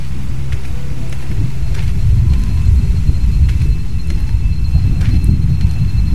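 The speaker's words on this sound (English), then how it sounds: "It sounds like a storm is rolling in." Low rolling thunder rumbling steadily from a storm building in The Walking Dead game, a continuous deep roar that swells slightly midway with faint crackles on top, no voices.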